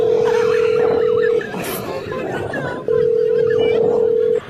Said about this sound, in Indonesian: Aku mau kamu telepon balik dia.